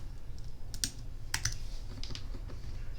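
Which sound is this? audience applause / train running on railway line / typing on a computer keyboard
typing on a computer keyboard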